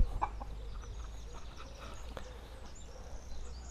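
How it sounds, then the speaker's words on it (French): Backyard hens cluck softly in an outdoor poultry run, with short, scattered calls at a low level over faint background noise. "Donc ici, j'ai mes poules."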